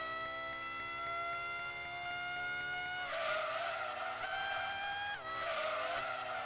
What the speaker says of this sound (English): They tried to get as close as they could to the F1 V10 sounds